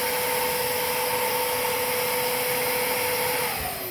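A Hoover S3341 Constellation vacuum cleaner runs at full power, a loud, steady whine with a sustained tonal hum and broadband airflow rush, its pitch sliding slightly downward near the end.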